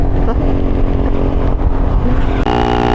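Loud, close motorcycle engine drone, likely a Triumph Speed 400 or Honda Rebel 500, with a steady rumbling tone, shifting pitch slightly near the end, with voices faintly mixed in.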